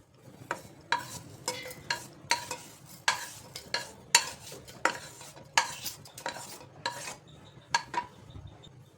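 A spatula scrapes and stirs coriander, curry leaves, mint and green chillies sautéing in a pan, a regular rhythm of close scraping strokes over a soft sizzle, with no talk.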